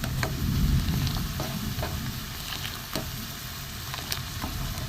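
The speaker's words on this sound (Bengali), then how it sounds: "দুধটা ফুটতে থাক" Milk with powdered milk added simmers and thickens in a pot for an egg rabri, making a steady bubbling sizzle with faint stirring clicks, close and even throughout, with no speech.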